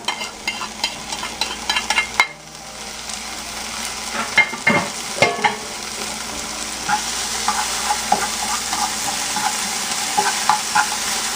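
Peppers stir-frying in a hot pan give a steady close sizzle, with scraping stirs and clatters early on, then a denser, continuous frying hiss with no talking.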